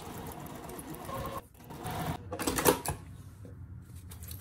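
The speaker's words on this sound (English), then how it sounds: "now we're going to stitch right along this side" A sewing machine stitches a zipper onto a placemat pouch in a steady mechanical whir close by, easing off briefly around the middle before running again with a louder burst.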